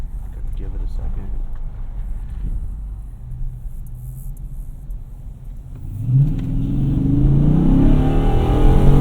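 A 2007 Dodge Charger SRT8 with a 6.1 engine and SRT exhaust idles low, then accelerates into a rising, growling exhaust roar heard from inside the car, with talk over the early part.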